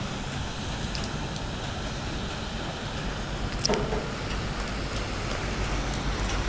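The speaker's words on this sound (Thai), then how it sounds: "ลงมาแล้วฝนตก" Rain falls steadily outdoors on a morning street near a construction area in Vientiane, a constant dense hiss with no pauses and no voices.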